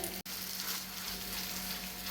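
Masala pathiri frying in oil on a tawa, a steady close hiss of sizzling that runs continuously with one brief dropout near the start.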